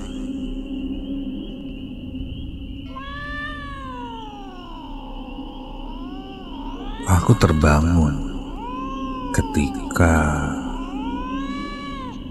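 Cats yowling and meowing in the middle of the night, drawn-out wavering wails from more than one animal with some sharp harsh outbursts, close and loud, while a person narrates quietly over them.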